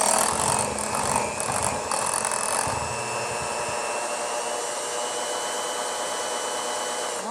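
A loud old blender whirs continuously while mixing a vegetable spread for pizza, a steady dense motor roar with a rougher chopping start in the first few seconds, close and without talk.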